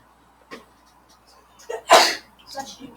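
A single sharp sneeze bursts out loudly in a classroom during a math lesson, preceded by a couple of faint breaths and followed by a brief voice in the room.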